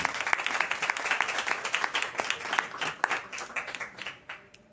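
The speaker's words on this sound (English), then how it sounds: "Ladies and gentlemen, let's make some noise for Supriya Arun." An audience breaks into applause, a dense patter of many hands clapping together, steady at first and then thinning out toward the end.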